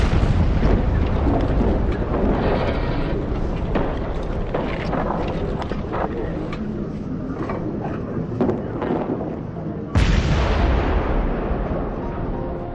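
Artillery bombardment on a First World War battlefield, a loud, continuous rumbling barrage of overlapping blasts and booms, with a sharp cut to a fresh burst of heavy fire near the end.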